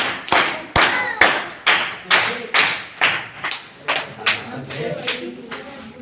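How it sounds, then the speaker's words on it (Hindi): Students at a writing competition class clap their hands in a series of about a dozen sharp, separate bursts, loud and close, each fading quickly before the next. "तो और ताली बजा दीजिए।"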